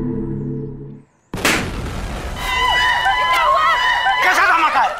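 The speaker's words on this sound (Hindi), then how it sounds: "अरे कोई बम बारूद फटा गया क्या?" A loud explosion like a bomb or firecracker bursts suddenly after a quiet moment, followed by a sustained roar and crackle with a crowd's babble and shouting underneath.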